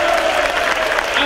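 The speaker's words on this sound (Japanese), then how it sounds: "みんなの熱い拍手と声いただけますでしょうか" A crowd at a Big Japan Pro Wrestling death match event applauds and cheers, a dense, loud wash of clapping and voices filling the whole brief moment.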